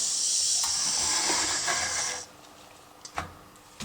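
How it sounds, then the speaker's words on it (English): A vintage German Wilesco D5 tin toy steam engine vents its pressure in a loud, steady close hiss of steam lasting about two seconds, then cuts off, followed by a couple of faint metallic clicks. "just open it up, release the steam, the pressure"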